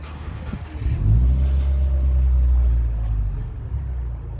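Turbocharged car engine at a car show revving up loudly with a deep exhaust burble, a sustained low roar swelling after the first second and holding steady before easing slightly.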